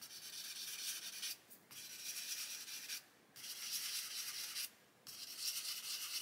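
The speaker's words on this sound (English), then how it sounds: "let's do a quick test with the sanding stick" Steady abrasive rasping of a sanding stick scrubbed back and forth over a plastic model, in long strokes with three brief pauses, close and moderately loud.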